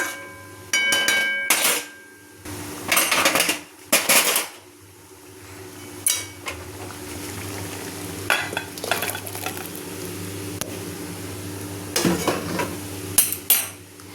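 Cooked rajma, a kidney bean curry, scraped and poured from a pot into a dish, heard as several sharp metallic spoon clanks and scrapes in bursts separated by quiet gaps.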